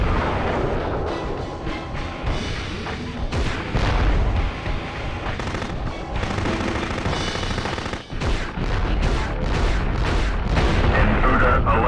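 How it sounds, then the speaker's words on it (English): Mortar cannon fire and blasts in the PS1 video game Future Cop LAPD, a dense, loud, continuous barrage of booms and rapid gunfire-like bursts with no letup. "Fire the mortar cannon!"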